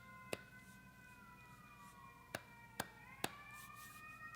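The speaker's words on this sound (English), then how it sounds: "Ambulance." An ambulance siren wails steadily in the distance, its tone sliding downward as it passes, quiet and faint behind a few sharp clicks.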